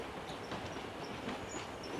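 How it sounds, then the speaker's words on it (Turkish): A video game train rolls past with a continuous rhythmic clickety-clack of wheels over rails, steady and moderately loud across the short stretch. "Bu qatar dayanacaq, getməyəcək."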